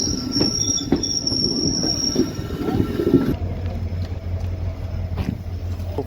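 Passenger train standing at platform 1 of a railway station, with loud metallic wheel squeal and a steady rumble of rail cars, then a lower idling drone as the squeal stops; no speech.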